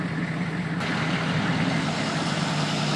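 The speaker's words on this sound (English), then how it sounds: "they're going to lead one long row of vehicles down the mountain" A long row of vehicles, including trucks, drives down a mountain road during a November storm, a steady loud rumble of engines and road noise mixed with wind and rain, with no talk.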